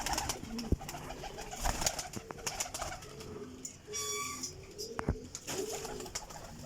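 Pigeons of a flying breed coo repeatedly in a loft, with soft low calls recurring throughout over a busy background of rustling, wing flaps and other bird sounds.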